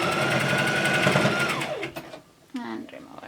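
A sewing machine stitches a cloth face mask with a steady, fast mechanical whir up close, slowing and stopping partway through, followed by quiet handling sounds.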